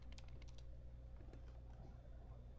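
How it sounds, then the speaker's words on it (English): In the video game Dying Light, a character types on a laptop, giving soft rapid key clicks in short bursts, faint and distant beneath a steady ambient hum. "A mysterious companion still sits here typing away, which looks to be lines of code that he's typing on his laptop."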